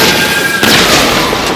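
A missile launcher fires in GTA 5 with a loud, sustained roaring blast and rushing whoosh, close and dense throughout the short burst.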